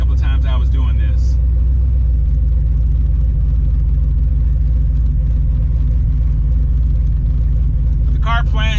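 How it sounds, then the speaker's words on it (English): A turbocharged Ford Mustang runs at wide open throttle, its engine roaring loud and continuous with a deep, steady rumble heard from inside the car, with someone talking briefly at the start and end. "We'll roll into a wide open throttle, and this time I'll look at my fueling."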